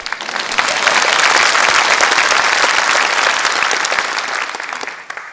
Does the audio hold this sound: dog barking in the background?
no